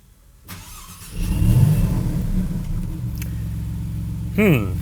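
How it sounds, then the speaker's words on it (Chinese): A Maserati MC20's 90-degree Nettuno V6 engine idles with a low rumble, then rises into a short rev near the end; a person talks over it. "直接来听它的这个 V6 的引擎声浪"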